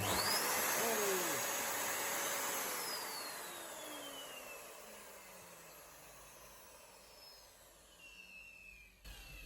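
A street-found Numatic Henry NV370 vacuum cleaner switched on, its motor whining loudly at first, then winding down and fading as it powers off, ending with a small knock.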